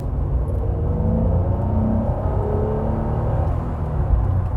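A Honda NSX engine running below its VTEC range, a steady low rumbling drone heard from inside the car, fairly loud and even.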